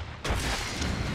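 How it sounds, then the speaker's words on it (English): Explosions in the Monster Hunter Rise video game during a Great Sword hunt against Kushala Daora: a sudden loud blast erupts and then rolls on as a dense, sustained roar, with no talking. "Explosions, explosions. That's how you flinch Daora."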